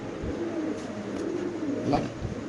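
Spanish pigeons give soft, low, rolling coos, a few short murmuring calls close by over quiet background hiss, with no talking.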